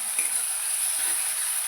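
Water splashed into a pan of hot oil and fried spices, spread across a steady broadband sizzle that holds evenly for under two seconds, close and fairly quiet.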